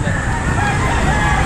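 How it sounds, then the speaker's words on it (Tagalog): Caged chickens at a busy outdoor pet market clucking and calling over a dense, steady crowd murmur. "mga manok sa kulungan, pwede yun."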